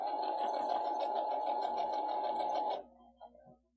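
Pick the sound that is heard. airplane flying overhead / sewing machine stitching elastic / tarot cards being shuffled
sewing machine stitching elastic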